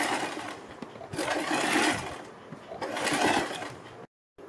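A sewing machine stitches around the neck of a kurti along buckram in two sustained whirring runs separated by a short pause, close and fairly loud, ending abruptly in silence.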